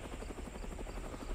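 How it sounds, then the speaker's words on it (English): The attack helicopter in the Roblox game Mad City gives a steady, throbbing rotor beat with a constant engine whine. It sounds close and moderately loud, with no talk over it. "is to get the attack helicopter"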